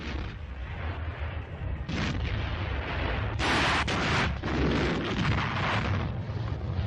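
Enemy artillery shells burst in a 1942 wartime battlefield newsreel, a rolling series of heavy booms and crackling blasts on a dense, noisy old recording, louder bursts midway, no speech over it.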